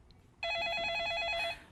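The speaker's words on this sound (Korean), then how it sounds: "전화부터 받겠습니다." A telephone rings for an incoming call in a studio, sounding a loud, steady warbling electronic ring for about a second before it stops, with a quiet room beneath it.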